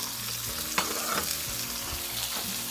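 Garlic, onion and tomato sautéing in a hot pan, a steady close sizzle of frying with stirring scrapes throughout.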